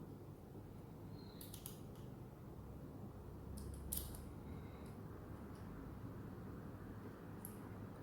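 A bolt being tightened during a SpeedGhoul installation on a 2017-or-later model, heard as a few brief, faint mechanical creaks and squeaks spaced apart over a quiet background, with no speech.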